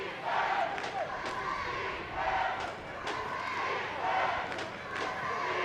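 A steady crowd roar fills a football stadium at an Under-19 Canada versus USA national team game, rising and falling in waves with shouts, while a commentator talks.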